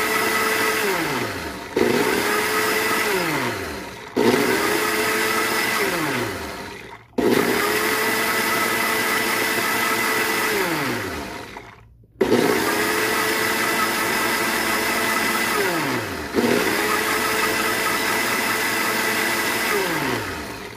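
Mixer grinder blending Arabic-style garlic sauce, running in several loud bursts of a few seconds each, the motor whine dropping in pitch as each burst winds down before restarting; no speech.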